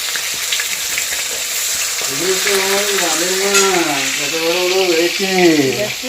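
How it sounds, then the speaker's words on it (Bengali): Fish frying in oil gives a loud, constant close sizzle, while someone talks over it from the middle onward. "আমি তো মাছ ভাজা অলরেডি শুরু করে দিয়েছি"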